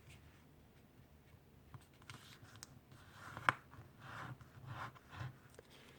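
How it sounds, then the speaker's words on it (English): Paper is folded in half again while making a tri-fold cross paper boomerang, giving quiet rustles and soft creasing rubs, with one sharper crinkle midway. "for now I can fold the paper in half again"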